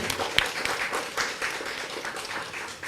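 Crowd applause at a book dedication event honoring the Bascotte president, a lively mix of many clapping hands with a few sharper individual claps near the start, moderately loud and fading slightly toward the end.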